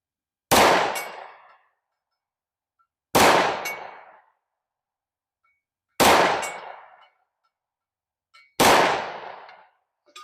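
A .357 SIG S&W M&P 2.0 pistol fires four loud, sharp shots at a target, spaced about two and a half seconds apart. Each crack rings out with a short ringing decay into silence.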